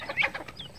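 Native hens cluck in a short burst of soft, clipped calls, close by and fairly quiet, with no talking over them.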